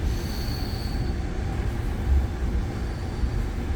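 Commuter train on the exo Saint-Jérôme Line near Montreal, heard from inside a carriage: a loud, steady rumble of wheels on rail with faint squeal and rattling, continuous without talk.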